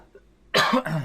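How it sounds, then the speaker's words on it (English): A sick man coughs twice in quick succession, close and loud, after a brief quiet lead-in. "Apologize for the coughing."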